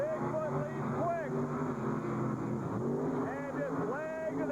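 Bigfoot monster truck racing Chevrolet against Ford in San Jose, engines roaring steadily and loud throughout, with an announcer's voice and crowd noise layered on top.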